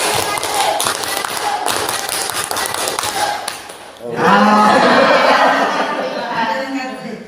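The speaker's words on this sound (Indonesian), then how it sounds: "Baik, kita coba tepuk pramuka." Students and teachers at a junior high school session perform a scout clap together, a burst of rhythmic group clapping with thumps and some laughter, followed by a louder stretch of voices.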